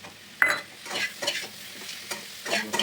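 Fish curry with tomatoes sautéing in a pan, with close stirring scrapes and soft sizzling in short repeated bursts, fairly quiet and without any voices.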